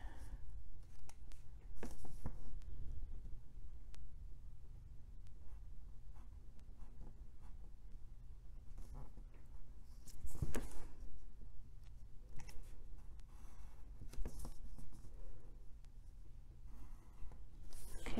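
Pencil or chalk drawing a dart line on skirt fabric for an 1897 Victorian skirt, a soft continuous scratching with small taps and rustles, close and quiet, no talk.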